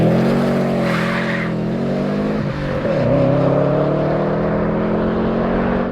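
A Subaru's aftermarket catback exhaust drones steadily with a deep, rumbling tone, briefly dipping and then swelling again as the engine revs, heard from outside the car at close range.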